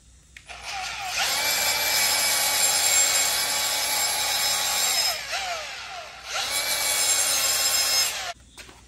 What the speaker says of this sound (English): we're going to take this this little grinder here and we're going to clean that up before